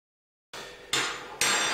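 Flour, baking soda, salt and vanilla stirred in a bowl for homemade Oreos, two sharp utensil clinks against the bowl followed by scraping mixing, close and fairly quiet.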